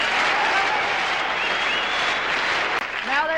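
A small group at a birthday celebration claps and cheers for a dress, producing a dense, steady burst of applause and whoops close by, with a few voices calling out over it.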